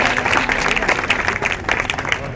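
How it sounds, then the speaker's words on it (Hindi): An audience at a women's safety awareness ceremony claps for everyone's hard work, continuous crowd applause with many overlapping claps, loud and close, with a faint murmur of voices underneath. "तालियां तो बजा दीजिए सबकी मेहनत के लिए"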